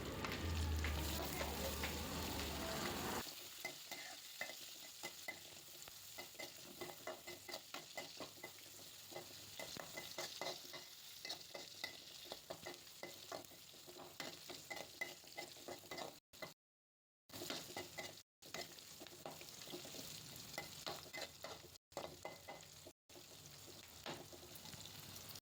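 Curry leaves and chopped onion fry in a pan, a faint continuous sizzle with light, irregular stirring scrapes throughout, opening with a louder hiss as they hit the hot oil.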